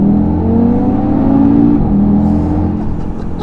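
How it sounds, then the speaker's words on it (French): Audi TT RS with its 400 hp five-cylinder turbo engine accelerating hard up to 110 km/h on an expressway, a loud, steady rising drone with climbing harmonics heard from inside the car, easing slightly near the end. "Là on va avoir droit à une petite accélération jusqu'à 110 sur la voie rapide"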